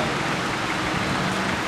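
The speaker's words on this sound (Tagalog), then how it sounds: "Umuulan. Lumakas na po, lumakas na." Heavy rain falls steadily, a dense, constant hiss with no pauses and a faint low rumble beneath.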